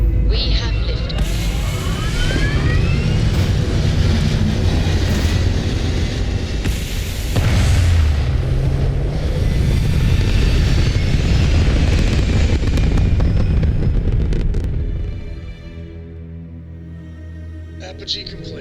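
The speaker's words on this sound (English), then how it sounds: "We have liftoff." Spaceship liftoff in Starfield, a loud sustained rumbling engine roar with deep booming low end and swelling thrust that builds, then cuts off abruptly near the end, leaving quiet ambience.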